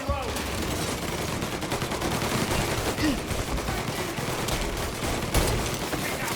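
Dense gunfire rings out in Mafia: Definitive Edition, a steady wash of shots and bursts running through the whole stretch, with one sharper crack near the end.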